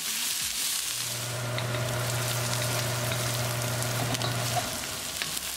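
Onions fry in a pan with garlic, giving a steady, close hiss of sizzling with faint stirring scrapes and a low hum beneath, and no one speaks.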